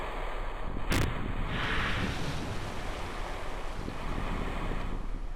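Steady rushing of water waves and wind around a spacecraft floating on the sea in Kerbal Space Program, a continuous broadband wash with a brief sharp burst near the start.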